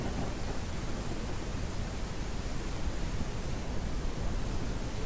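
Dense, steady roar of heavy rain in the video game Ranch Simulator, a constant hiss spread evenly throughout, with no voices or breaks.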